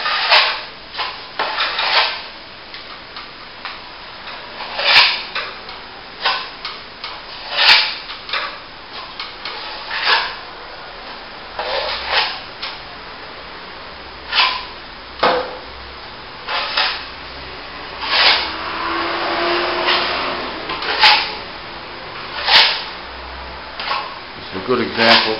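Steel trowel working a plaster top coat over plasterboard repairs, heard as close, repeated scraping strokes in an uneven rhythm, with brief pauses between passes.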